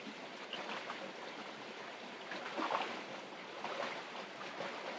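Water churning and rushing steadily from the jet pump current of a deep dual-temperature swim spa, a soft continuous wash with slight surges, heard alone at low level.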